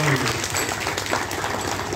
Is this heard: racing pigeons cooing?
no